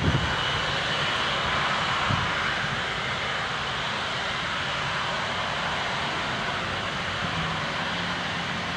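An Air Transat Airbus A330-342 jet takes off at Shannon airport, its engines a loud, steady broadband roar that holds throughout with only a slight fade, no voices heard.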